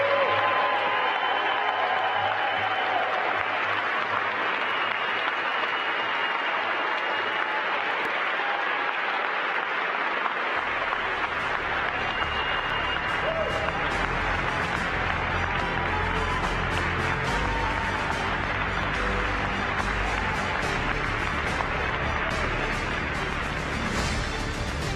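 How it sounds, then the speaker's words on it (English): Audience applause for the NASA 2021 class of astronaut candidates as they stand at their announcement event. The steady clapping fills the room for the whole stretch and grows denser and fuller about halfway through. "so they can get a huge round of applause"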